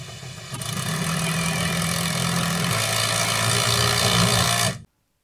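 A Ryobi compact drill/driver runs under load in a torque test, a loud, steady motor whine with strong harmonic tones that cuts off abruptly near the end.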